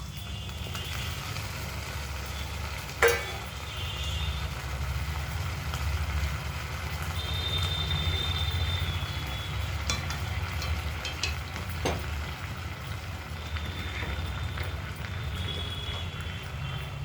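Boiled olives fry in a five-spice and dried chili tempering, a steady close sizzle with an occasional clink of a utensil against the pan, with a low background hum throughout.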